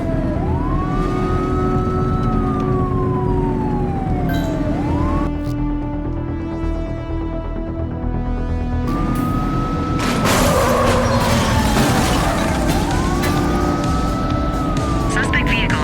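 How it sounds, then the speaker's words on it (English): Wailing police siren from a squad car chasing a suspect in the police game The Precinct, sweeping up and down over a steady engine drone, with a burst of radio chatter and a voice speaking in between. "Looks like we're in for a police pursuit."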